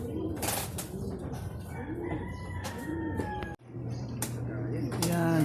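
Racing pigeons at a club loft during training in Baliuag coo in repeated low, rolling calls close by, overlapping each other against a steady background murmur.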